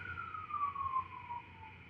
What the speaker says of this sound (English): There's some sirens in the background.